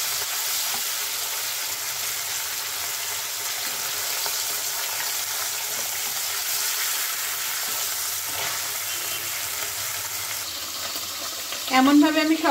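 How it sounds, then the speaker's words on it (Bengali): Pabda fish pieces frying in hot oil, a continuous even sizzle at moderate level with a brief clatter of utensils near the end and no talking. "এমনভাবে আমি সবকটি মাছই ভেজে নিচ্ছি।"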